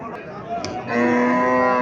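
A Haryana-breed cow moos loudly and close by, a long low drawn-out call rising out of quieter background noise.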